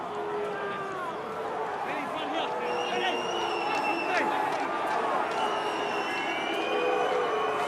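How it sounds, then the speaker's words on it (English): At an A-League football stadium during Perth Glory v Melbourne City, the crowd jeers and whistles during a double substitution, a sustained, moderately distant din with a commentator talking over it. "Crowd not appreciating the amount of time being wound off the clock here in order to effect this double substitution"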